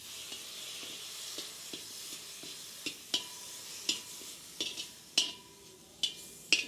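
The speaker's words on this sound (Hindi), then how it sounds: "लास्ट में इंडियन मसालों को कढ़ाई में डाल के और उसमें कुछ सब्जियों को लपेट के ऐसे निकाल लेना है।" Indian spices and vegetables being stirred in a hot kadhai, a steady sizzling hiss broken by repeated sharp scrapes and clinks of the spoon against the metal, growing louder toward the end, with no talking.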